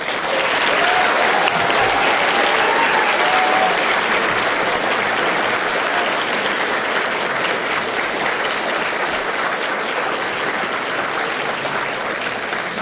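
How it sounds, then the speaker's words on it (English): A large graduation ceremony crowd at Aston University claps steadily in a dense, loud, rousing round of applause that holds at full strength throughout. "Please give them a huge and rousing round of applause."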